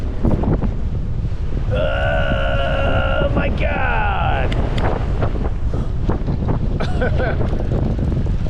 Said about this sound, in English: It got insanely windy at one point.